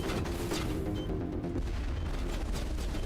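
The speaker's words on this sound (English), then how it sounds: "And somebody is launching missiles." Missiles launch with rapid whooshing blasts and rumbling booms during a firefight in Mass Effect, loud and dense for a few seconds.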